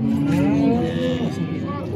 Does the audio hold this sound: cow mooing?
yes